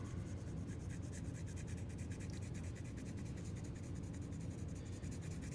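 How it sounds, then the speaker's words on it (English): Graphite pencil shading on paper with long, smooth strokes for a realistic face drawing, a soft continuous scratchy rasp close to the microphone, quiet and steady with no talking. "I'm gonna use that nice artist grip from the end of the pencil that's gonna help me get long, smooth strokes"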